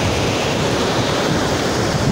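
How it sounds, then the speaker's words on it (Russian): Ocean surf breaking in a steady, loud, continuous wash of roaring water with no pauses, heard alone with no voices. "не всегда нам удается посмотреть вот такой прибой в океане"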